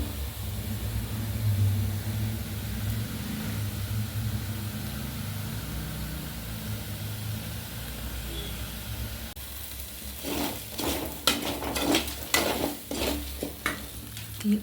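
Washed rice is stirred and dried in a hot pan to roast it: a steady low sizzle runs throughout, then sharper scraping stir strokes grow louder and more frequent toward the end, with no talking.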